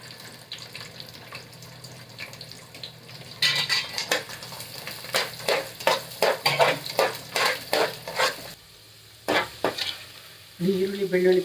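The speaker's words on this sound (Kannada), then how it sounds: "ಈರುಳ್ಳಿ ಬೆಳ್ಳುಳ್ಳಿ ಫ್ರೈ ಆಗಿದೆ" Onion and garlic for tempering sizzle gently in hot oil, then a run of rhythmic stirring scrapes against the pan brings bursts of louder frying, followed by a brief lull and a fresh wet sizzle.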